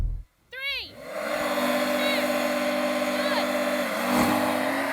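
Two Porsche 911 Dakar cars launch off the start in an off-road drag race. Engines rise quickly in pitch and then hold a loud, sustained roar close by, with a voice at the very start.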